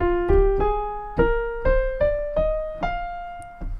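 Eight piano notes of an F Dorian minor scale climb one by one in a steady, unhurried rhythm, each clear and sustained, played alone without talking.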